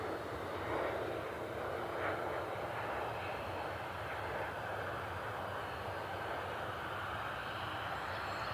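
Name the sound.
aircraft taxiing out for departure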